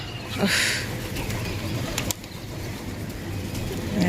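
Low pigeon coos over steady outdoor noise, with a brief burst of wing flapping near the start and another soft flutter midway.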